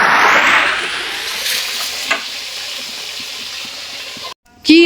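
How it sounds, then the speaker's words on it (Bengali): Fish frying in hot oil in a wok gives a loud, bright sizzle that swells at the start and slowly fades, cut off by a brief silence just before the end. "মাছগুলো ভেজে নেব।"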